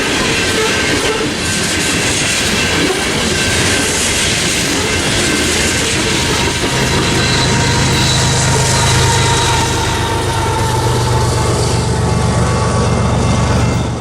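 A freight train passes close by in Nebraska, with a loud, continuous rumble and rhythmic clatter of wheels on rails holding steady throughout and a low droning tone joining partway through.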